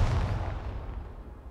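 A single heavy cannon blast from a tank in the wargame Second Front booms loud at first, then decays into a long fading rumble.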